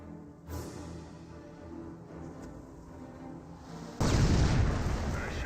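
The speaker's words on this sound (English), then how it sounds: "Nice landmine detonation there" Landmine blast in Company of Heroes 1, a sudden loud broadband burst that fills the last second and a half over a low rumbling battle-game ambience.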